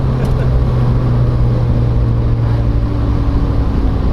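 A Rotrex-supercharged Mazda Miata, baffle still in the exhaust, drives along with a loud, steady engine drone and rumble heard from inside the car, constant and close for the whole stretch.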